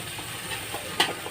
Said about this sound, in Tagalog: Ngayon, gigisa niyo po.